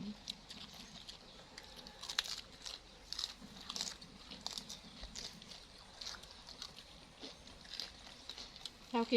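Children crunch and chew on papaya salad, producing soft irregular bites and smacking sounds at close range, with quiet background noise and occasional faint voices.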